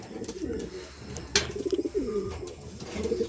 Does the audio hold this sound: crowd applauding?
no